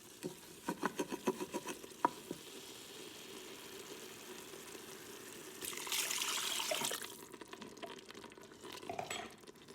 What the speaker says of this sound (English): scraping through the bottom, scraping up all those little pieces that got stuck